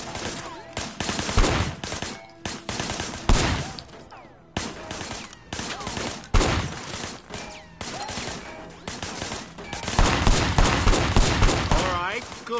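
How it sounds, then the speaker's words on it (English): Sustained video game gunfire in Sleeping Dogs, a crime setting with shooting from behind a barricade: dense bursts of shots and rattling automatic fire, loud and close, with a few short pauses and a heavy closing stretch. "I want you to put some bullets in a few things."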